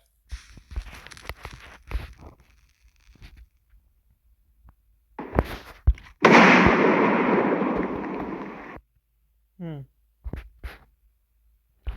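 A tiny nuke firework goes off in the game Fireworks Play: a loud, sustained roaring burst of about two and a half seconds, framed by scattered clicks, pops and short crackles before and after.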